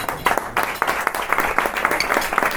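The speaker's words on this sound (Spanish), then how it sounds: "el aplauso es para la tarta" Applause breaks out in an indoor studio setting, a dense wash of many hands clapping steadily through the whole stretch at moderate loudness, with no voices over it.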